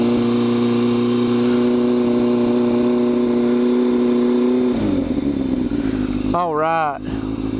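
A motorcycle with a blown-out tire idles with a steady, loud engine drone during a daytime ride, then the engine note drops and a short rising-and-falling rev or whine follows, with a voice speaking over it.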